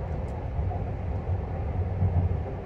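Sunrise Seto sleeper express pulling out of Tokyo Station, heard as a steady low rumble of rolling stock with a faint rhythmic undertone, no voices over it.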